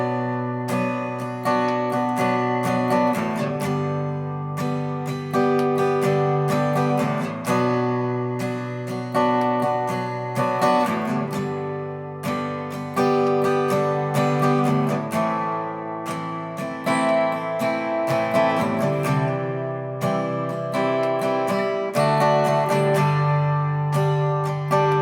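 Acoustic guitar strums a verse chord progression in a steady repeated rhythm, full and close, with no voice over the playing.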